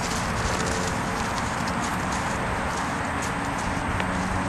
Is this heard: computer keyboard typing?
no